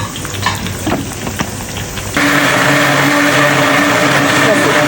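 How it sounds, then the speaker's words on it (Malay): A kitchen blender grinds onion, garlic and ginger, kicking in loudly partway through after softer frying and stirring noises, then holding a steady, dense whir to the end. "Kita nak kisar bawang besar, bawang putih dan halia."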